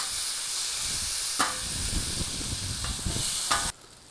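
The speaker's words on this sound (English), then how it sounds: "we're gonna go ahead and fry this alligator up" Alligator meat sizzles and hisses in olive oil on a medium black stone griddle, a steady close frying crackle with a few louder spits, cutting off abruptly near the end.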